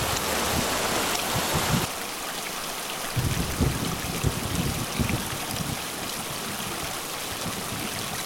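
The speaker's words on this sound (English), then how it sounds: "It's pouring rain now" Pouring rain patters steadily on the ground and nearby surfaces outdoors, a dense, continuous hiss of drops with some heavier splashes, loud and close throughout with no talking.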